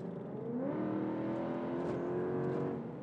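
Sporty car engine and exhaust note in sport mode, a steady loud revving drone that swells and holds for about three seconds with no talk.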